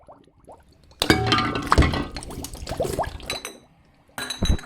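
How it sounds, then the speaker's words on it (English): Saved glass bottles clink and clatter while being sterilised for bottling elderflower cordial. A faint opening gives way to a busy burst of sharp clinks and knocks, then a quieter spell and a fresh clatter at the end. "So I'm sterilising bottles that I've saved up over the last few months."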